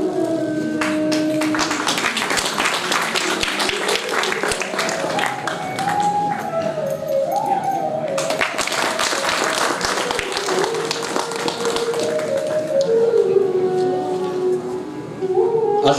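Audience applause at a ceremonial lamp lighting during a theatre society event: steady, dense clapping from a crowd lasting throughout, with a sustained tone and voices heard over it.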